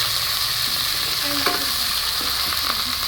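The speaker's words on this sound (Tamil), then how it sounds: "இதெல்லாம் போட்டு நல்லா மிக்ஸ் பண்ணிக்கலாம்." Coriander, curry leaves and onion frying in hot oil while being stirred, a close, steady sizzle with scraping stirring strokes breaking through, no voices.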